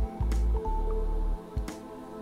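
Kitchen mixer grinder crushing grated coconut, green chilli and ginger at low speed, heard as a few short pulsed whirring bursts with brief pauses between them, close and fairly loud with no voices.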